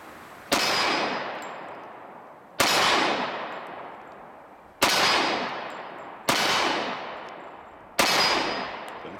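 Five sharp reports from a Kahr Arms CM45 pistol ring out at steady intervals of roughly two seconds, each loud and close with a long, fading ring-out and no voices between shots.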